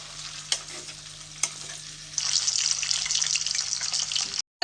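Chilli paneer fries in a wok with garlic, a steady sizzle that swells louder partway through as the food is stirred, with a couple of sharp clinks early on and no talking.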